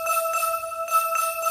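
Synthesized Christmas bells an octave apart layered with a tambourine sample, bright sustained chiming tones with shimmering jingle on top, a few rhythmic restrikes, moderately quiet and alone.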